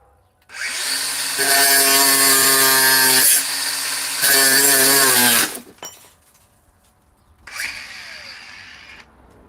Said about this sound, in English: I about broke the grinding wheel.